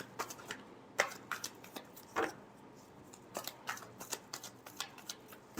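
Tarot cards being shuffled in a tarot reading, a run of sharp, quiet flicks and riffles in an uneven rhythm, close by with no talk.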